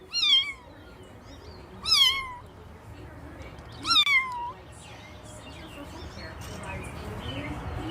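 A kitten gives three high, plaintive meows spaced a couple of seconds apart, close by, with quiet room noise between them.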